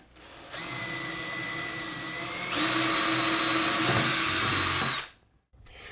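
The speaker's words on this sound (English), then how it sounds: "I'm gonna drill around here" A power drill whines steadily as it drills into wood, its pitch jumping higher partway through as it bites in, then cuts off abruptly near the end.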